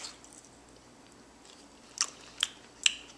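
Someone eats lunch, and after a quiet stretch three sharp, crisp bites and crunches come close to the listener at roughly half-second intervals.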